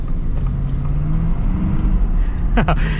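A Ford F-350 high output Power Stroke diesel truck drones along at a steady low rumble from inside the cab, its engine note shifting briefly near the end.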